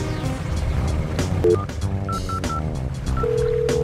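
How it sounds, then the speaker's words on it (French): Several short mobile phone dialing beeps of varying pitch sound over a steady boat engine rumble and background noise. "il appela Marchère sur son téléphone portable"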